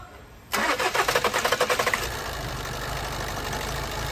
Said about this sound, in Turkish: Aracı bir çalıştıralım.